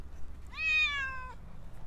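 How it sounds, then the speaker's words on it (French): A single drawn-out cat meow, close and clear, in a vegetable garden during planting, with a faint low background hum and no talk. "Je m'excuse pour faire subir les miaulements de Léa."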